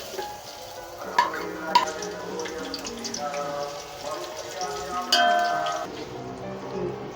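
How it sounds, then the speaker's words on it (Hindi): Chopped medium onions sizzle and fry steadily in half a cup of hot oil for pulao, a continuous crackling hiss with occasional louder spits and stirring bumps, fairly quiet and close. "प्याज को हमें ब्राउन करके निकाल लेना है पुलाव के लिए"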